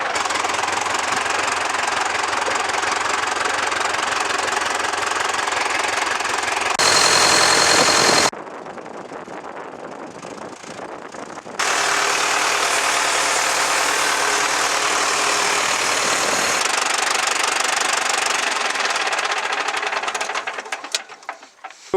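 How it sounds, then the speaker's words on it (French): A freshly restored tractor on its first run-in outing runs loud and close with a steady knocking chug. It cuts out briefly, then runs again at a constant pace. "Le tracteur, ça y est, il roule."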